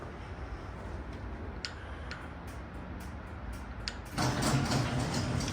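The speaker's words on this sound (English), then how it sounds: "let's get over here and shut this garage door down." A faulty garage door in a home garage begins closing with a sudden loud mechanical rumble and rattle about four seconds in, preceded by scattered ticks and clicks, with no talk.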